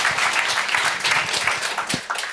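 An audience at a digital identity conference applauds after a presentation. The clapping is brief, dense and lively, with close individual claps over a steady crowd wash.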